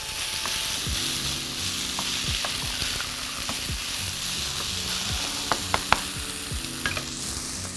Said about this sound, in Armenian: այստեղ կարտոֆիլ ենք տապակում եւ պետք է երբեմն խառնել